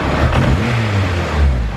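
A car engine revs briefly, close and loud, on a car being checked for a gearbox fault with a limited-slip differential, one calipers-off side wheel spinning.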